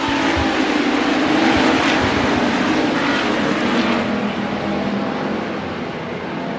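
Race cars at Bakersfield Speedway roar past together under a green flag, a dense, loud engine drone that swells and then fades slightly as the pack moves on.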